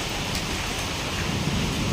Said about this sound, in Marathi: पाऊस येते अंगावर भिजू नको